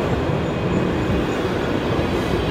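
A new Flirt passenger train runs at Warszawa Wschodnia station on a Zakopane service, a loud, steady rolling rumble throughout.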